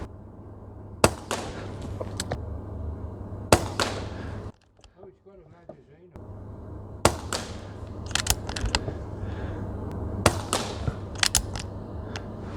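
Reximex Mito S air pistol fitted with a moderator fires a series of sharp, muffled shots at irregular intervals, close up, with a brief handling pause in between and quiet background talking.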